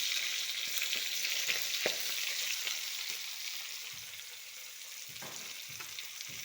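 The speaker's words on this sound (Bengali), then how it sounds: "কড়াইতে এখন পেঁয়াজগুলো দিয়ে দিলাম।" Chopped onions fry in hot oil in a wok, giving a steady, close sizzle with a few soft stirring clicks and no voices.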